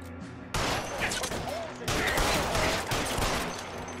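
Gunfire in L.A. Noire, a dense, continuous fusillade of shots that erupts loud after a brief quieter lead-in and keeps going to the end, with overlapping bursts and no talk over it.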